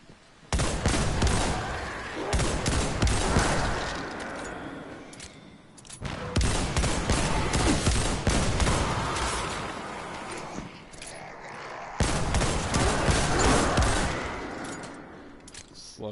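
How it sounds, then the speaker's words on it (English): Hand cannon gunfire in Destiny 2, three long bursts of rapid, loud shots separated by brief pauses, with a voice talking over the firing. "Love this hand cannon."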